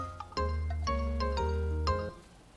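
Telephone ringing tone from a Korean phone call, a series of melodic electronic chimes repeating in quick succession, clear and alone with no talk.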